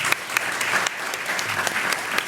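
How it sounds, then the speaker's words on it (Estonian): An audience claps together at a panel discussion on public and private sector partnership, a steady close burst of applause that carries on evenly without a break. "väikese aplausi. Teeme aplausi."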